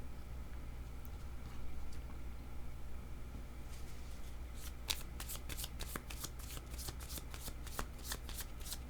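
Tarot cards shuffled at close range, starting with faint handling under steady background hiss, then a rapid series of crisp riffling flicks in the second half.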